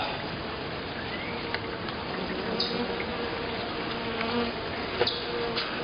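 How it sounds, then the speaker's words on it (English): Honey bees buzz at an open hive in summer, a dense, continuous hum with occasional closer individual bees droning past. "Lots of bees up here."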